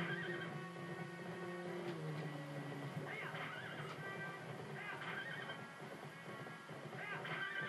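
A horse neighs and whinnies repeatedly in Zelda: Twilight Princess, the calls rising and falling over steady in-game ambience with faint hoof clip-clops, loud and close, with no talking.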